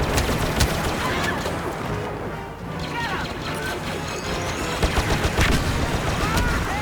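Automatic turret fire in the game Star Wars Battlefront, rapid continuous bursts mixed with crashes and mechanical clatter in a dense, loud battle soundscape.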